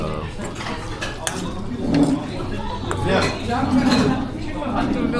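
Metal utensils clink and scrape against a bowl while noodles are stirred, a series of light irregular taps and rattles mixed with lively background chatter in a busy eatery.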